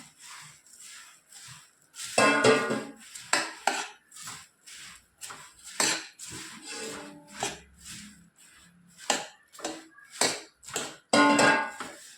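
Ingredients being mixed in a bowl in a home kitchen: irregular clinks, scrapes and knocks of a utensil against the bowl, with a few louder clattering bursts and quieter shuffling between them, no voices.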